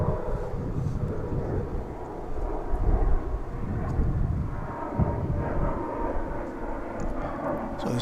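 A fixed-wing airplane at DFW International Airport rumbles steadily at a distance, a low broadband roar sustained for several seconds with no one talking over it.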